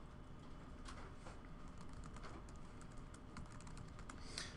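Steady clicking of keys on a computer keyboard as someone types a search query, a continuous run of close keystrokes with no talk over it.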